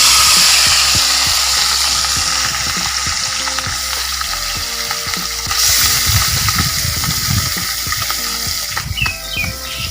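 Turmeric- and salt-rubbed fish pieces hiss and crackle steadily in a hot wok of oil, a loud, continuous close-up sizzle with occasional louder spatters, no voices.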